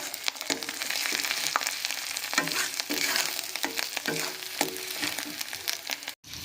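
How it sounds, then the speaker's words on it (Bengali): Spice masala for prawn curry frying in oil and stirred with a spatula, a moderate crackling sizzle broken by repeated scraping strokes, ending with a brief silent gap. "মশলাটাকে আরও 2 মিনিট আমরা কষিয়ে"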